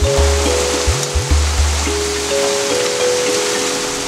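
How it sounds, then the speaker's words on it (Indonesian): Heavy, steady rain pours down in Sumatra during a 2022 overland trip, a dense continuous wash of sound, with a low engine drone and a few bumps underneath in the first half. "Hujan itu nggak berhenti dari subuh"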